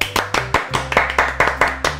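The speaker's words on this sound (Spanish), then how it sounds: "¿Me compras un aplauso?" Hand claps at an applause cue, a clear steady series of about ten sharp, close claps in an even rhythm, over a low sustained tone from the background.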